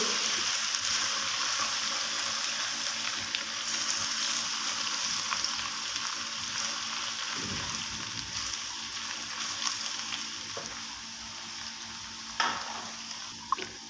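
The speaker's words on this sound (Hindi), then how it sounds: "लो मीडियम फ्लेम पर ही हम सारे मसाले को भूनेंगे।" Steady sizzling and crackling of spices and ginger paste frying in a pan over a low-medium flame for bhindi masala, with occasional stirring scrapes, continuous and close, no talking.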